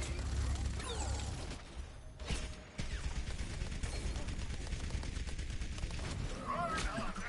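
Rapid, sustained gunfire in the video game Overwatch, dense bursts of shots and mechanical clatter running nearly nonstop, with a voice talking over the action.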